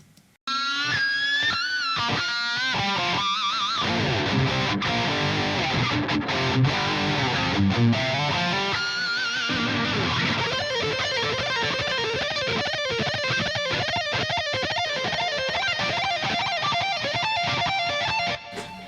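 A stereo bass track in Cubase plays through a stereo delay and reverb, with distorted, repeating echoing notes that ring on continuously for almost twenty seconds before stopping abruptly.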